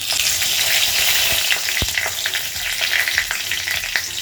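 Bay leaf dropped into hot oil left over from frying paneer crackles and sizzles steadily, with a bright hiss and a few sharp pops and stirring clicks, close and alone with no talking.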